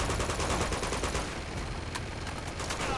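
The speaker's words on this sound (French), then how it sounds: "Je tire un peu dans le tas" Rapid automatic gunfire in the video game Uncharted: a fast, steady stream of sharp shots sprayed into a crowd of enemies, loud and continuous for the whole stretch.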